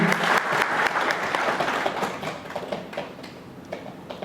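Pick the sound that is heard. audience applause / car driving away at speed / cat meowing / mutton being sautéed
audience applause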